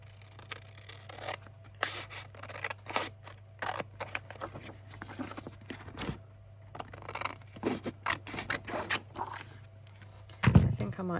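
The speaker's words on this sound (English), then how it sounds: "And then grab the scissors." Scissors snip through clothes tags during a paper-craft session, a series of crisp, irregular cuts and paper rustles heard up close against a low steady hum, with a quiet voice now and then.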